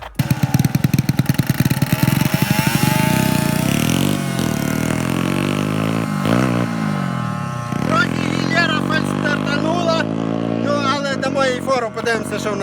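125cc motorcycles racing at a season-closing race, engines loud and close, revving hard with pitch climbing and dropping through gear changes, a continuous roar that never lets up.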